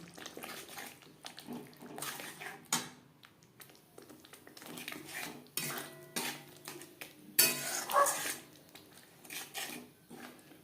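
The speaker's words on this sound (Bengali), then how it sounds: "হাই টু মিডিয়াম ফ্লেমে চার পাঁচ মিনিট নাড়াচাড়া করে নেব" Chana masala with mutton fat being stirred in a pan, a spoon scraping and clinking against the metal in irregular bursts, fairly close, with no talk.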